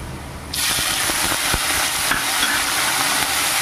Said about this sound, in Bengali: পেঁয়াজ রসুনের সঙ্গে খুব ভালো করে মাছের তেল ভেজে নিলাম